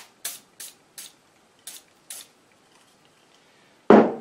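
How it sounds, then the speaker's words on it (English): PB Blaster penetrating oil sprayed onto a stuck bolt on a Miller Trailblazer 250G engine, five short close hisses in a quick series, then a pause and one louder burst. "So I'm going to hit it with some PB Blaster."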